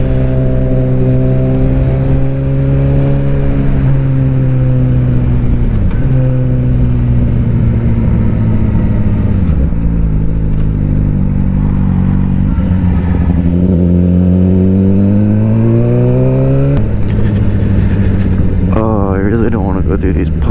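A motorcycle engine revs loud and close on a wet road in cool air, its pitch climbing and dropping through several gear changes with a steady rumbling drone underneath.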